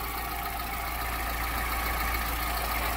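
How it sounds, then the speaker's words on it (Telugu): A 2009 Hyundai Santro Xing GLS engine idles with a steady, low hum and an even mechanical drone, close and unchanging throughout. "ఇంజన్ సౌండ్ కానీ ఇంజన్ కూడా అంతా అయితే చూపిస్తాను"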